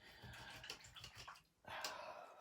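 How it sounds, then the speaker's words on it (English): Acrylic paintbrushes get rinsed in a water container, with soft sloshing and swishing that continues, drops off briefly, then comes back as a fuller splash, all close and fairly quiet. "I gotta take a minute and clean my brushes"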